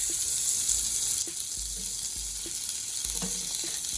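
Gandules seasoned with adobo and sazon sizzle steadily in a pot for Puerto Rican arroz con gandules, with a constant crackling hiss, a few soft clinks and low bumps, and no talking.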